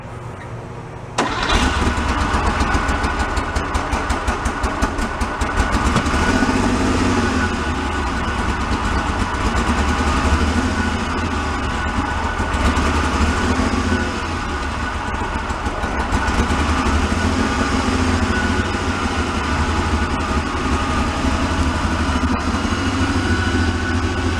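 A flood-damaged Porsche 911 engine cranks briefly, catches and settles into a loud, steady, slightly rough running idle that carries on close by for over twenty seconds, with a few small swells in revs.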